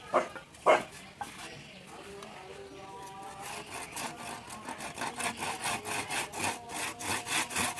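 Hand saw cutting through wood while building a duck and chicken coop, a steady back-and-forth rasp of repeated strokes, close and fairly loud, with a few brief louder knocks near the start.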